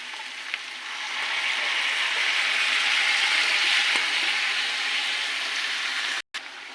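Cabbage sizzles steadily in a hot pan while cooking for a vegetarian labra, a close, continuous frying hiss that builds slightly, with a single faint tap and a brief cut near the end.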